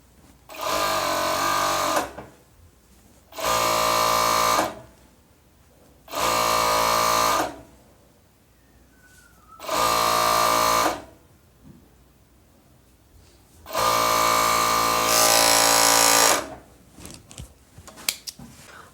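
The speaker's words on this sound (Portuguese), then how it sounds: "vou passar a costura no overlock" An overlock sewing machine runs in five bursts of roughly two seconds each, stitching a folded fabric strip for pajamas, with short quiet pauses between runs and no talk.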